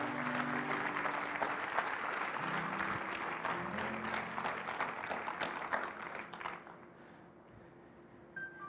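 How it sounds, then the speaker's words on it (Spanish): Loud, sustained applause from a church congregation at a Spanish-language teaching in Mexico, dense clapping filling the space for several seconds before fading out near the end. "Den un aplauso fuerte al Señor."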